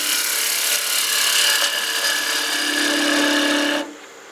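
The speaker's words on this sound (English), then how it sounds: "we'll do a peeling cut here to get this waist section down a lot smaller" A wood lathe takes a peeling cut on a small gnome Christmas ornament, a continuous bright hissing shear of the tool against spinning wood that holds steady for several seconds and then cuts off.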